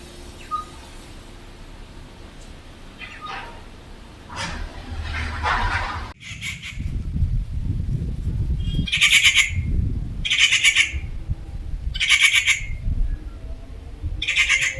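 A golden oriole sings a soft, melodious song outdoors, giving four or five short bright phrases at a regular pace after a quieter stretch, fairly near and clear over faint background sound.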